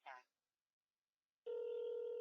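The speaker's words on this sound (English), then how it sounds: "So now it's ringing, and so I see it's incoming here." An incoming support call rings on a computer phone system. After a short burst and a pause, a steady electronic ringing tone starts and holds, loud and clean.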